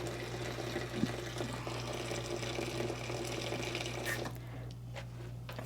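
Very hot water pours in a steady stream onto potting soil with a low hum underneath, then stops near the end, leaving a few soft drips and splashes.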